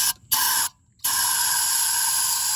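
Aerosol throttle body cleaner sprays into an idle control valve in short, loud hissing bursts: a brief spurt, a second one, then a long steady blast after a pause.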